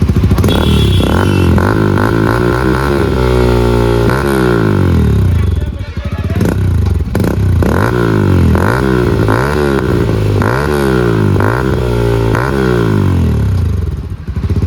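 A Hero Xtreme 125R motorcycle with a loud full-system Akrapovic aftermarket exhaust idles and blips repeatedly, rising and falling in throaty revs, close up.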